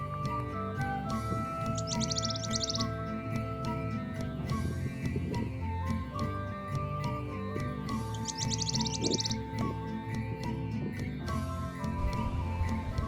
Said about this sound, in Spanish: un canastero coludo desplazándose entre las ramas de unos arbustos